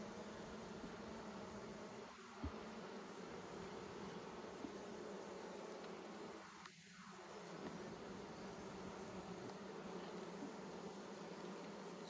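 Steady, faint insect drone from many bees around a nucleus hive, a continuous low hum with a couple of brief louder buzzes passing close.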